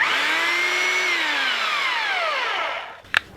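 A power drill in drill mode whines steadily at high speed close by, its tone holding then sliding down as it spins to a stop, ending with a sharp click.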